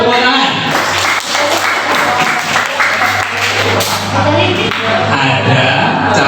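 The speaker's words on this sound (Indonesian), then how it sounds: "Tepuk tangan." Applause from a classroom or audience fills the scene, a dense steady wash of clapping hands that runs loud throughout, with voices talking over it and a low hum beneath.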